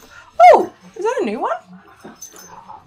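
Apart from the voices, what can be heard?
dogs making noise in the background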